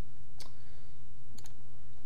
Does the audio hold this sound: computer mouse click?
yes